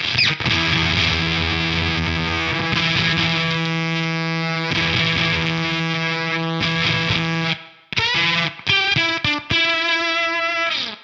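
Electric guitar played through a Beetronics Octahive V2 octave fuzz pedal with the octave engaged, giving a loud, sustained, high-gain grunty fuzz of held chords that cuts off near the end before a few more choppy chords.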